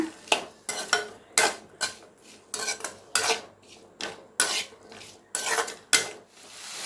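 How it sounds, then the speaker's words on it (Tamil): Potato fry being stirred with salt in a pan over a medium flame, a steady run of about a dozen close, rhythmic metal scraping strokes, with no talk. "நல்லா கலந்து விட்டுக்கோங்க"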